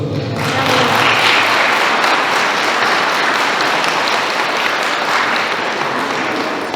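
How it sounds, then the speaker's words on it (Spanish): Loud, sustained applause from a church congregation at a Eucharist celebrating a couple's silver wedding anniversary, a dense steady clapping that fills the whole stretch without talk on top. "Fuertes aplausos."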